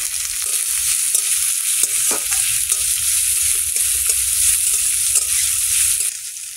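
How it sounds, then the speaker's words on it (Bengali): Sliced onions and green chillies sizzle loudly in hot oil in a pan, a dense continuous crackle with occasional scraping stirs, close and unaccompanied by speech, easing slightly at the very end. "এবার পেঁয়াজগুলো দিয়ে দেবো, কাঁচা লঙ্কাগুলো দিয়ে দেবো।"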